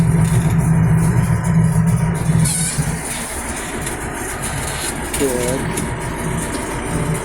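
A Don-1500B combine harvester engine running at its first start, a steady loud drone with a low hum, continuing throughout with faint bleat-like squeaks on top.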